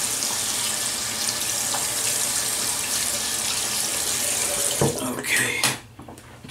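Steady rush of water running from a tap into a sink while someone washes off after a wet shave, continuous and close, with a short break near the end.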